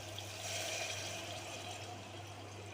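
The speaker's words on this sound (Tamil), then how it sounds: "இப்போ தண்ணி ஆட் பண்ணி கொதிக்க விட்டுக்கலாம்." Water is poured into a pan of tomato rice in a home kitchen, a soft continuous splashing rush over a low steady hum.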